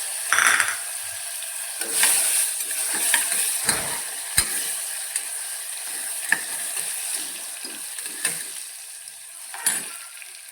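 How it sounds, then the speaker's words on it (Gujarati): Cumin seeds sputter and crackle in hot oil, followed by garlic and chili paste frying for a Kathiyawadi green pigeon pea and val bean curry, a close, continuous sizzle broken by sharp pops and clicks. "જીરું તતડી જાય એટલે અંદર એડ કરશું લસણ અને મરચાંની પેસ્ટ"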